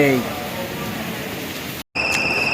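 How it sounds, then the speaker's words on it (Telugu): Rain falls steadily on a college campus as an even, hissing wash of drops, with insects chirping faintly beneath it and a short break in the sound near the end. "వర్షం పడుతుంది రే"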